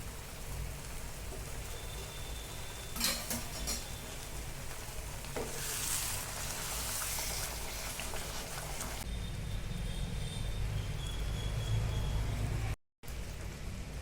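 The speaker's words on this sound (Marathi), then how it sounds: "आता यामध्ये मी थोडंसं गरम पाणी घालून एक उकळी आणून घेणार आहे" Pav bhaji vegetables with peas simmer in hot water in a pan, giving a steady, close bubbling and sizzling hiss that runs unbroken and alone, with a brief cut near the end.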